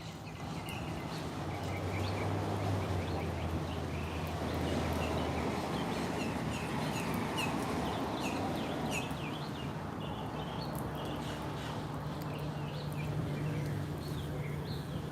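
Birds call outdoors at a rainy beach, scattered chirps spread through the clip over steady, loud rain and surf noise, with a low engine-like hum beneath.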